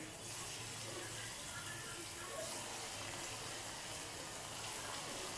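Papad pakora batter dropped in small portions into hot oil gives a continuous, fairly faint hiss and bubbling sizzle that holds steady throughout, with no talking.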